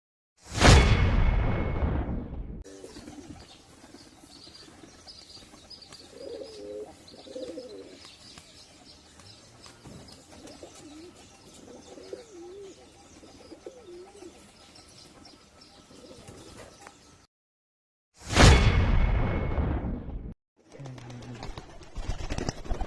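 Soft, low cooing from red Giribaz pigeons murmurs intermittently beneath a steady background hum, framed by loud bursts of rumbling noise at the start and near the end.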